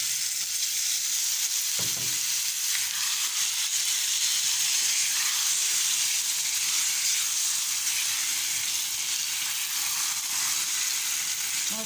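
Chopped onion and tomatoes frying in a pan, a steady soft sizzle and hiss with a brief clatter near the start as the tomatoes go in, continuous and close with no talk.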